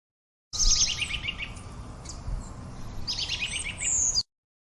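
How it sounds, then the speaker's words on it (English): A robin sings high, warbling phrases at the start and end of a continuous passage over a faint rumbling background, moderately close and with no one speaking. "Robin."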